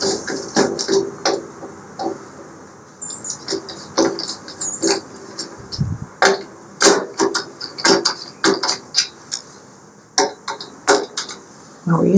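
Screws are tightened with a ratcheting tool during assembly of a 22-inch Blackstone griddle, model 2015, with hood and folding legs. Close, rapid clicking comes in uneven bursts, along with occasional metallic knocks.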